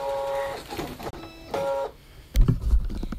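Electronic craft cutting machine from DesignNCut motoring a cutting mat into place, whirring whines with rising and falling pitch, then a heavier clunk as it settles, close and without talking.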